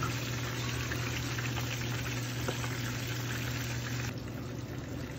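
Steady bubbling and hissing of about two cups of water boiling in a pan, continuous and close, with a low constant hum beneath and no voices.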